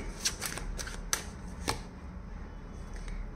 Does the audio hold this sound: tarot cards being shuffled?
yes